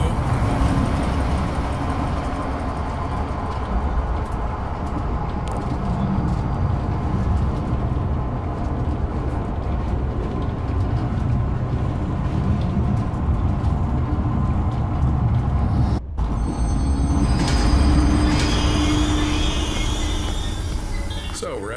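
A train in the horror zoo game Zoochosis starting up and running, a continuous low rumbling rail drone with rattling, a brief dropout, then a brighter clattering surge toward the end, steady and loud throughout.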